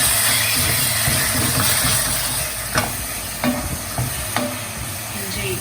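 Minced meat keema frying in a pan with ginger paste, a constant loud sizzle with occasional scraping knocks from stirring.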